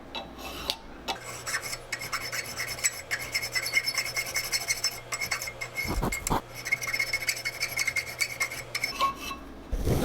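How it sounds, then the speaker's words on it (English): A file draws across a metal plane sole in long, steady rasping strokes, close and continuous, broken by a couple of brief pauses and light clinks. "Just a bit of draw filing really will take care of most of the needs."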